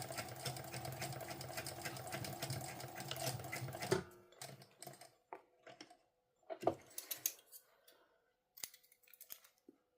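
A sewing machine stitches a sling pouch: a steady, loud run of rapid motor-driven stitching for about four seconds, then stops, followed by short scattered bursts of stitching and handling noises with quiet gaps.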